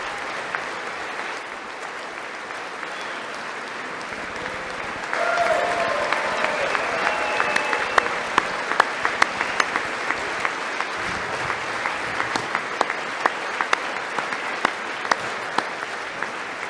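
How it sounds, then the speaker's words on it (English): Audience applause at a Trump event fills a large room, a continuous wash of many clapping hands that swells louder partway through, with sharp individual claps and occasional whistles cutting through. "The sound of Trump's clapping."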